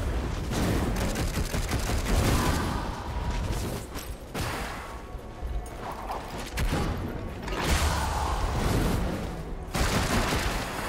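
Dense bursts of gunfire in the video game Darksiders Genesis rattle continuously, with heavy rapid shots and mechanical clatter rising and falling in intensity.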